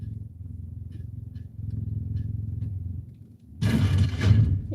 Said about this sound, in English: I hear HQ's cat.